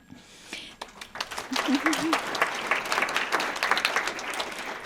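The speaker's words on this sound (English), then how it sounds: "huge round of applause" Audience applause at a regional history symposium talk, clapping swelling from a few hands into a full, steady round from the room, with a brief vocal sound near the start.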